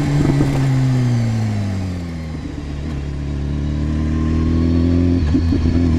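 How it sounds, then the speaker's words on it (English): Sport motorcycles riding a badly potholed road near Breckenridge, a loud close engine drone with shifting pitch as revs fall and climb, plus rough bumps and rattles. "you can hear the number of potholes on this road was absurd"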